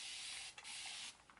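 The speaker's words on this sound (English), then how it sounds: "I will spray" A spray bottle mists water onto curly hair in two quick hissing bursts, close and fairly quiet, with no one talking.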